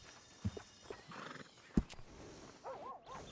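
Horse in the Red Dead Redemption 2 video game, heard in a soft, fairly distant game mix: a couple of short hoof thuds, then a wavering neigh that rises and falls near the end.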